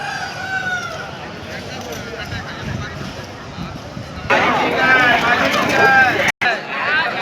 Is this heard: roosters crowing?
yes